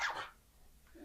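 A dog gives a single short bark close by at the start, then fades into quiet with faint background noise, in a room where a pet parrot is kept.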